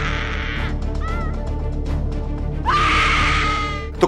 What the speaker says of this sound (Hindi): लोग सिर पटक रहे हैं, महिलाएं चीख रही हैं, भाग रही हैं